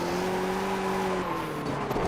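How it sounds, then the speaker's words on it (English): A Skip Barber Formula race car on BF Goodrich treaded tyres weaves to warm them at Oran Park, its engine holding a steady, fairly loud drone that shifts pitch midway. "Saif Arifin warming his tyres up, trying to get as much heat into those threaded tyres"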